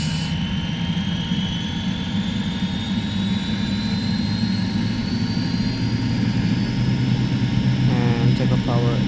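MD-80 jet engines at takeoff thrust during a departure from Soekarno-Hatta, Jakarta, heard as a loud, steady roar with a rising whine, continuous throughout, while a voice speaks briefly near the end.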